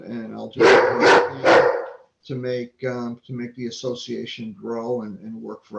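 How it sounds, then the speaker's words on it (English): A dog gives three loud, close barks in quick succession, after which someone speaks steadily with no further barking. "if you hear a dog barking"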